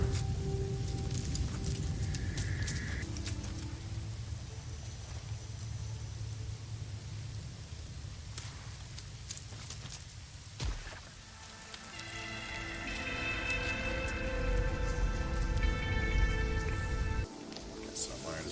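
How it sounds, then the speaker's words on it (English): Rainstorm on an alien planet in the space game No Man's Sky, with steady close patter of rain, a low rumble and occasional electronic tones, under a murmur of voice. "Secret rainstorm."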